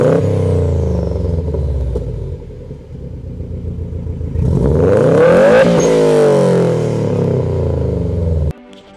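A car with a boxer engine, as used by Porsche and Subaru, idles with a throbbing rumble, then revs up and back down, loud and close, before cutting off abruptly at the end.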